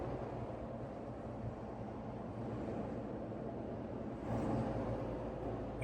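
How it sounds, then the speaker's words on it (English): Road and wind noise inside a Ford Bronco Everglades cruising at 60 mph, a steady low rumble with a broad hiss over it, constant and fairly loud, swelling slightly toward the end. "You can hear just a lot of road noise in here."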